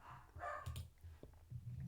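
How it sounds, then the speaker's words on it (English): Dogs bark faintly in the distance, a few short, scattered barks over quiet background noise. "Sorry, stupid dogs."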